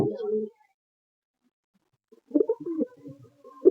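Giribaz and Madras pigeons cooing close by: a short, low, throaty coo, then after a pause a longer run of soft rolling coos, with no talking.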